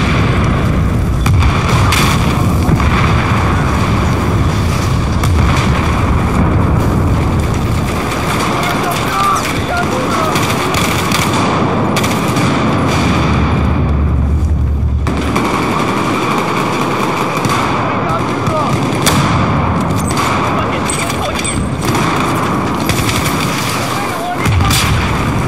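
Gunfire and booming shots in an Xbox One sniper shooter game set in Shanghai, a dense, continuous barrage of loud blasts and rumbling with voices talking over it throughout.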